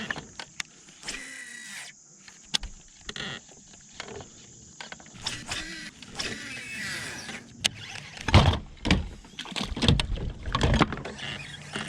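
Small outboard motor on a fishing boat out on a river, a steady engine drone broken by clunks and knocks, rising louder toward the end with water splashing.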